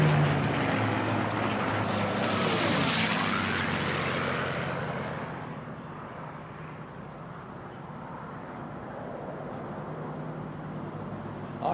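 Unlimited class race airplanes at the national championship air races sweep past in a rising, then fading engine roar, loud as they go by close and trailing off into a distant drone.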